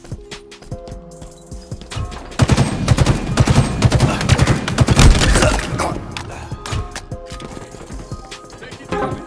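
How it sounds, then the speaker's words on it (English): Halo multiplayer match with a spike grenade and gunfire: dense bursts of automatic fire and thudding impacts build into a loud, sustained barrage, then thin out into scattered shots and in-game announcer callouts. "Throwing a spike grenade."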